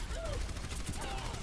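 Rapid gunfire in the video game Overwatch, a continuous dense burst of shots filling the moment, with game sounds and some voice chatter mixed in.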